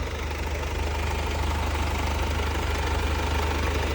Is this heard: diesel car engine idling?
yes